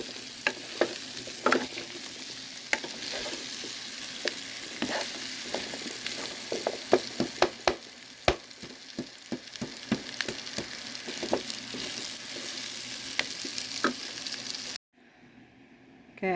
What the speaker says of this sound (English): I'll break up some of the bigger pieces of onion